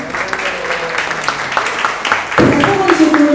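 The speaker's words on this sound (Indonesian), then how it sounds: "boleh tepuk tangan dong." Audience applause at an Indonesian Mother's Day podcast gathering, a dense crowd clapping close by with voices talking over it and rising louder near the end.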